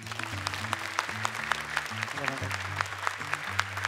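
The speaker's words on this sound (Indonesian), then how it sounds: "Boleh tepuk tangan untuk Kang Hussein Gaza." Studio audience clapping on an Indonesian Quran-memorization television show, moderately loud and rhythmic, layered over a steady backing music bed with a bass line.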